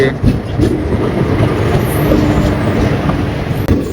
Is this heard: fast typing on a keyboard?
no